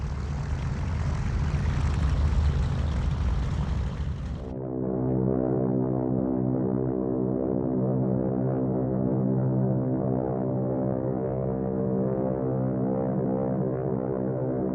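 Engines of a Martin B-26 Marauder bomber drone loudly and continuously, first with a broad roar, then settling into a steady throbbing propeller hum.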